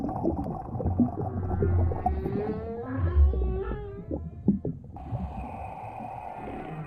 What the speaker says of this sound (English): Bye, whales.